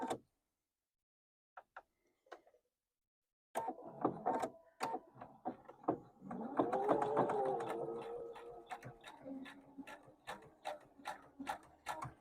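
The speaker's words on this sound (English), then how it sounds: "We're going to be sewing on the line for this." A sewing machine stitches along the line of a quilt block: a few faint isolated clicks, then a steady, close mechanical clatter of rapid ticking that runs continuously to the end.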